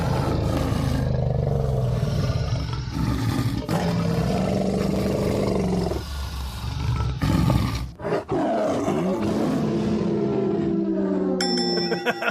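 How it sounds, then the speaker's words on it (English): Recreation of the Jurassic Park dinosaur roar: a long, loud, dense roaring growl with layered tones, breaking briefly near the middle and ending with a bright, bell-like ringing shimmer. "felt the need to try and recreate the sound from Jurassic Park"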